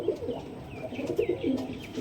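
Domestic high-flyer pigeons give several soft, rolling coos close by. They come in short bursts over a faint background, with no talk.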